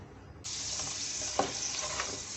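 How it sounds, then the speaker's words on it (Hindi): Garlic and ginger, added frozen, drop into a spoonful of hot oil and break into a sudden steady sizzle, close and moderately loud, with a faint stir partway through. "2 टेबल स्पून लहसुन डाल रही हूँ और 2 टेबल स्पून अदरक डाल रही हूँ।"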